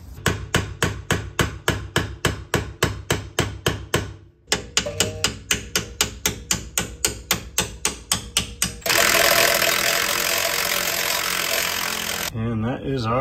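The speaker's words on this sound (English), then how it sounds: "kind of lightly pry or hammer, being careful not to hit the new bushing, to hopefully get this thing lined up" Rapid metallic hammer blows strike a control arm bushing on a Saab 900 suspension, a fast regular series of loud close taps, briefly pausing, then resuming before giving way to a steady broadband noise.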